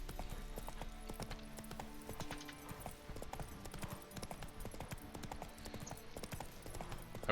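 Hooves of Roach, the horse in The Witcher game, clip-clopping steadily along a road in a quick regular rhythm, close and clear over a low ambient game backdrop.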